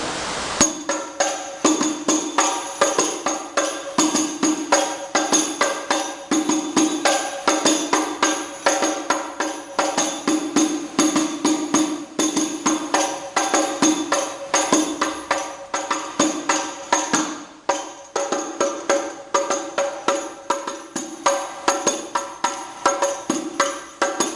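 Hadroh frame drums beat a steady, dense pattern of sharp strikes throughout, loud and continuous with no talking over it.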